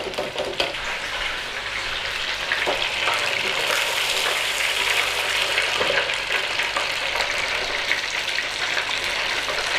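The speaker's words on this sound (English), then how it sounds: "we're just cooking till we've got that nice golden brown that we like on our fish batter." Battered fish deep frying in hot oil for British fish and chips, a loud, steady, dense crackling sizzle that continues evenly without pause.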